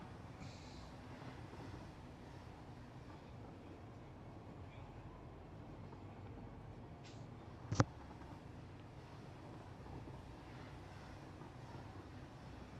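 A train in Satisfactory rolls along with a faint, steady mechanical rumble, broken once by a brief sharp metallic clank midway; no talking over it.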